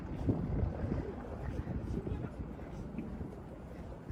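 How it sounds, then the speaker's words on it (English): Strong wind blowing outdoors in a Tokyo street, a loud low rumbling buffet against the microphone that roars continuously from start to finish. "It's too windy"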